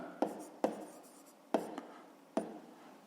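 A pen writes on paper during a fifth-grade maths exercise, making four sharp taps or strokes spaced unevenly over three seconds, each faint and close with a quiet scratchy decay and no talk.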